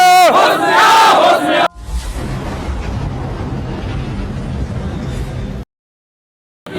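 A large crowd of protesting drivers in India shouts and chants loudly in unison, a dense roar of voices that runs for several seconds before cutting off abruptly, with a brief voice at the very start.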